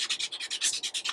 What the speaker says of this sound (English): sanding off some of the paper on the ends